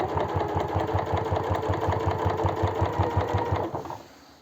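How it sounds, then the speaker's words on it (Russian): A sewing machine runs a straight seam on a clear cosmetic bag with a zipper, a fast steady rhythmic chatter up close that stops abruptly near the end and leaves brief quiet. "Я даю ровную строчку."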